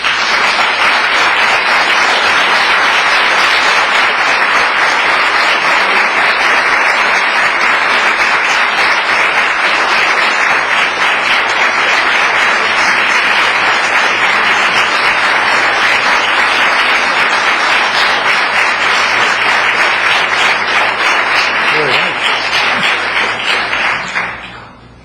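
A hall audience breaks into sustained applause after a speech at a Connecticut legislative press event, steady dense clapping that carries on loudly before fading abruptly at the end.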